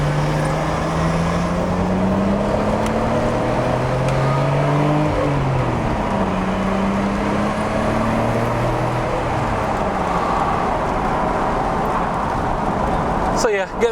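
A stock Nissan Skyline GT-R R33 engine revs up and down through its range at a JDM expo, steady and fairly loud with rising and falling pitch, while a crowd murmurs in the background.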